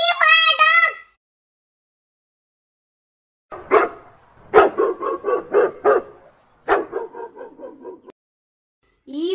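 A dog barks in a quick series of sharp yaps, close and loud, following a brief spoken word at the start.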